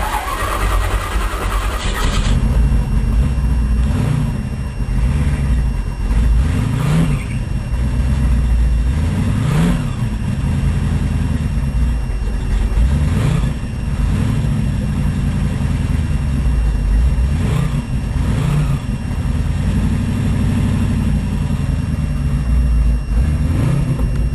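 A 1924 Chrysler three-window with a blown 331 Hemi cranks and fires, then settles into a loud, rough, throbbing idle with repeated revs swelling and falling, close and continuous throughout.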